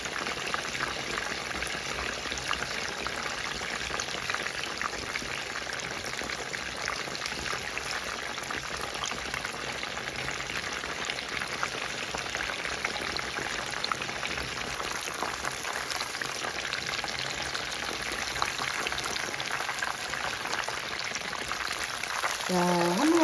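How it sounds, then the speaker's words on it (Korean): A breaded chicken cutlet deep-frying in hot oil gives a continuous close bubbling hiss that stays even throughout, with a faint voice briefly near the end. "한 번만 더 뒤집어서 튀기겠습니다"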